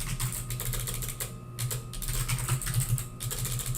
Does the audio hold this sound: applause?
no